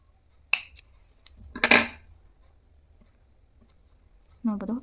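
Scissors snip through zari thread while finishing a beaded tassel, giving a few sharp, close clicks and cuts in a quiet room, with a short burst of speech near the end.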